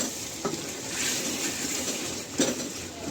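Chicken with chopped green chillies cooks in a pan for a village-style chicken kabsa, giving a soft, steady frying hiss. Two brief scrapes of stirring sound within it.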